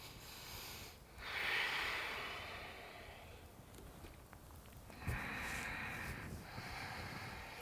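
Someone breathes deeply during a yoga session, two long airy inhales and exhales close to the microphone, with breathy rushing noise and no talking.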